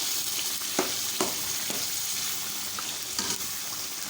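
Mashed brinjal bharta is mixed and cooked in a pan, with a constant low sizzle and a handful of quick spoon scrapes spaced through it.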